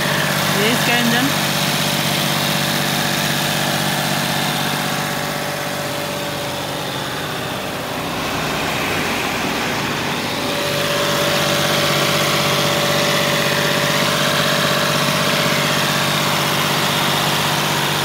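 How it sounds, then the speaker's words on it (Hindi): A Mahindra Bolero's engine runs steadily for about eighteen seconds, a loud continuous idle with a mechanical hum and a brief dip midway, heard close up with no speech. "ये इसका इंजन"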